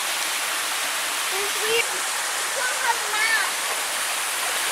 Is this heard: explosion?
no